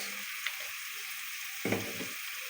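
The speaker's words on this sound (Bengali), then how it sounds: "এখন সব মশলাগুলো খুব ভালোভাবে নেড়ে চেড়ে এভাবে কষিয়ে নেব" Cumin paste, turmeric and chili powder fry in a pan as they are stirred, a constant close hiss with a couple of brief scraping strokes and no talking.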